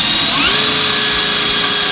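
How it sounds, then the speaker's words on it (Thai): Keyang DM18BL-W cordless drill boring into thick steel angle iron, a steady loud whine with a rising tonal note running the whole time, no voices. "เป็นตัวที่ผมเจาะยากที่สุดเลยครับก็คือเหล็กฉากนะครับ"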